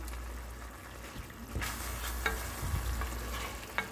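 Dhata saag cooked with rohu fish in a pan with a little gravy added, stirred with soft scraping strokes over a low, steady sizzle and a few sharp utensil clinks.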